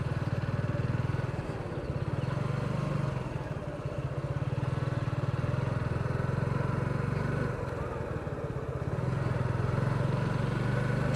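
Steady motorcycle engine drone while riding along a rural village road near Charkhai in Beanibazar, Sylhet, a continuous close rumble with slight dips in throttle and road noise, no talking.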